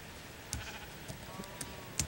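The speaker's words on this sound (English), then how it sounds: "There's a sheep." Faint sheep bleats sound in a survival video game, a few short calls at intervals over quiet game ambience.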